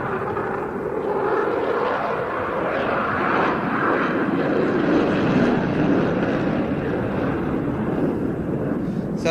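Loud, continuous roar of a jet aircraft climbing into a loop at an airshow, a broad sustained rumble that holds steady and close throughout.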